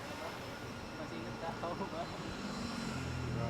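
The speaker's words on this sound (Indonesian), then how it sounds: "Sekarang drone-nya udah terbang." A small drone flies some distance away outdoors, a steady propeller drone sitting under nearby voices talking throughout.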